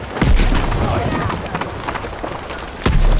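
Explosions go off in the video game Battlefield 6 as loud, close booms. One blast lands near the start and another near the end, over constant battle noise and rumble.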